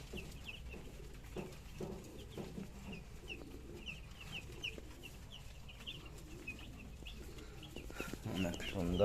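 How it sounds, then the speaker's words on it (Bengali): Forty young poultry chicks chirp faintly in a quiet space, their high repeated peeps scattered throughout over low background noise, with a few soft knocks near the end. "এখানে 40 পিস পোলট্রি মুরগির বাচ্চা এনেছে"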